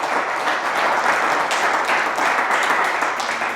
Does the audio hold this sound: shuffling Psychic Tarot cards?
no